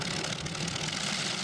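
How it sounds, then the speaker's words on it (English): A tractor-pulling machine powered by six naturally aspirated V8 engines coupled through a gearbox, at a pulling final, gives a dense, continuous rumbling roar, steady and fairly distant with no talk. "6 naturally aspirated V8 motors on this machine, a very clever gearbox set up to get them all coupled together, and it's a very distinctive sound"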